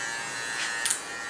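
JRL hair clippers fitted with the shortest 0.8 mm guard hum in a steady, close electric buzz during a skin fade haircut, with brief brighter rasps as the blades meet hair.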